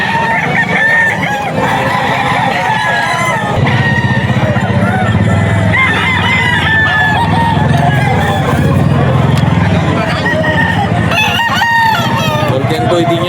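Full stag roosters crow loudly and repeatedly at a seller's spot in Bocaue, Bulacan, with overlapping calls, clucking and a background of people talking.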